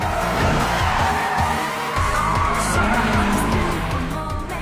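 In an anime street-racing scene, a car takes a hairpin turn at full speed without braking, its engine roaring loudly and steadily as the tires squeal and skid through the bend.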